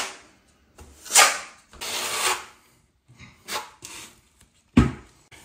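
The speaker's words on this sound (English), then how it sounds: "we're just going to kind of smear this around everywhere and push it so it kind of starts to adhere to the plywood" Trowel smearing tile mortar across plywood in a container tiny house bathroom, heard as several separate rasping scrapes, each a second or so long, close and fairly loud, with brief quiet gaps between strokes.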